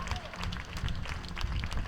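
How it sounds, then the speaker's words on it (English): Crowd applause at a youth world championship speed climbing final in Arco, sustained dense clapping mixed with broadband crowd noise and commentary-like voices throughout. "Getting a big round of applause from the crowd."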